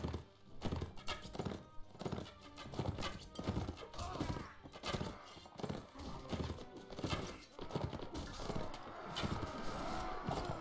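Horse hooves clip-clop in the Mount & Blade Warband video game, a fast, irregular run of close galloping thuds that continues through the whole stretch with clatter and faint battle noise.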